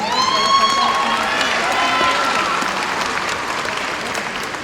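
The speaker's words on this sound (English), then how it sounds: "he brought the house down with applause for a tremendous presentation" An audience breaks into sustained, loud applause after a presentation at a graduation ceremony, with dense clapping and a few cheers, fading slightly toward the end.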